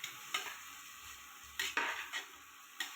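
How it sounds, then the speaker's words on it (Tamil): Chopped large onions sauté in a pan for Tamil-style chicken curry, a steady close sizzle broken by several sharp scrapes and clatters of a spoon stirring against the pan; no talking. "வெங்காயம் நல்லா வதங்கி வரட்டும், அது வரையும் நம்ம வெயிட் பண்ணுவோம்"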